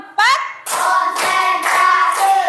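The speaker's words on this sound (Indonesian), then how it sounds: "Tepuk 5." Fourth-grade pupils in a classroom clap in a counted rhythmic pattern, sharp clustered claps close by, mixed with children's voices.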